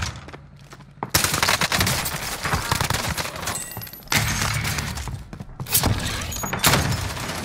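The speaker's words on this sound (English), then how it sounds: "Taking enemy fire." Enemy gunfire in the Warzone video game erupts in dense, loud bursts of rapid shots and thuds, stopping briefly and then resuming for several seconds.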